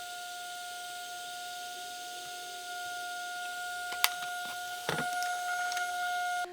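A Savox SC-1257TG servo fitted to a Tamiya TT-01 race build is powered up and centers itself: a steady faint electrical whine, then a sharp click and a short buzzing movement near the end.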